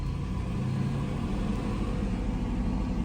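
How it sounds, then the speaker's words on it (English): A Chevrolet Blazer engine with an upgraded fan, AC compressor and tensioner rumbles at steady raised revs, held around 1500 rpm. The low, even drone is close by and continuous, with no voices. "but if you rev it up"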